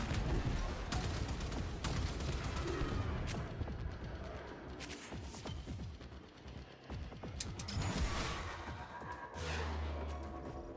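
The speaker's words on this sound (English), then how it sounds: "Hostile! Hostile! I am taking enemy fire!" Sustained video-game gunfire comes from enemies in a space battle, a dense rattling barrage that runs loud and continuous with scattered sharper bursts throughout.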